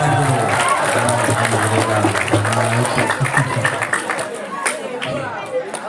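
An audience at an Isra' Mi'raj religious talk claps after a cash prize is announced, a dense burst of applause mixed with crowd chatter that gradually thins out toward the end.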